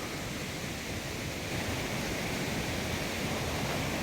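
A mountain stream in the Haldizen highland near Uzungöl, Trabzon, rushes steadily in a close, continuous broadband hiss that grows slightly louder partway through, with no voices.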